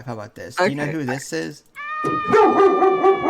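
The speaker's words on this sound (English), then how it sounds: "That's the dog." People talk briefly, then a cartoonish dog sound effect from a Mario video game rings out in bright, tonal yips and barks lasting over a second.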